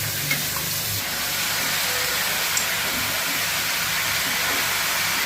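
Vegetables stir-fried in a pan for restaurant-style Chinese mixed veg, giving a steady, loud, broadband sizzle that holds evenly throughout with a faint low hum beneath and no talking.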